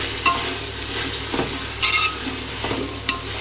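Chopped vegetables for a veg pulao being stirred and fried in hot oil in a home kitchen: a continuous close sizzle with a few scraping strokes of a spatula against the pan, and no talking.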